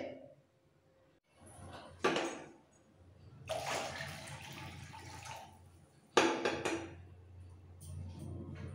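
Food is lifted out of water in a bowl while it is rinsed free of oil, giving a few bursts of splashing and dripping water with quiet pauses between them.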